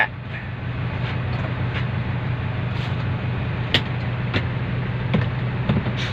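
A large Hino dump truck diesel engine runs steadily at idle with a low, throbbing rumble, dotted with abnormally dry, sharp ticks and clattering knocks. No voices.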